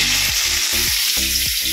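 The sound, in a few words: vegetables frying in oil in a wok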